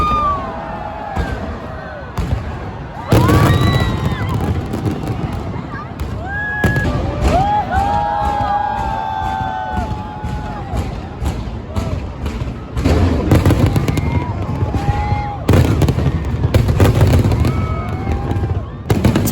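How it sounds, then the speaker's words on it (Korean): New Year's Eve fireworks over the riverside in Bangkok, repeated booming thumps and crackling bursts at varying distances, loud and irregular, with crowd noise underneath. "내가 방콕에 머문 주된 이유는 새해 불꽃놀이를 보기 위해서였다"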